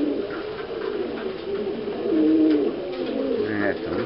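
Pigeons coo nearby in a loose, repeating pattern, with soft murmuring calls rising and falling in loudness against a steady background.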